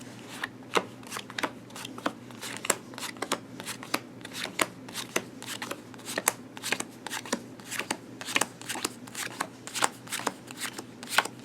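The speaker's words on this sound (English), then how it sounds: "you're going to put the cards down in the rows" Playing cards being dealt down into rows for a card trick, a steady run of soft, crisp snaps and flicks close up, many in quick succession with no voices.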